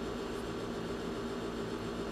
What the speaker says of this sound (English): Sorry about the background noise. The heater just kicked in.